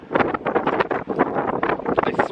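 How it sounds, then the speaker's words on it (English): Strong gusts of roughly 50 mph wind roar and buffet a microphone in uneven bursts, loud and close throughout with no other sound standing out. "the wind is crazy"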